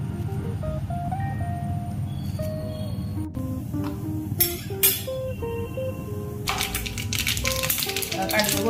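Cumin and mustard seeds splutter and pop in hot oil with curry leaves, a busy crackling sizzle that swells sharply toward the end while someone talks over it, with occasional clinks of a utensil.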